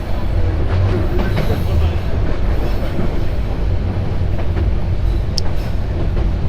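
The Dhaka to Cox's Bazar express train rumbles steadily along the tracks after leaving Chittagong, loud and close, with a low continuous roar and faint rattling.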